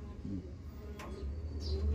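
Soft, low cooing from Vandenbroek, a racing pigeon in an old-bird derby loft, heard close and faint, with a few brief rustles.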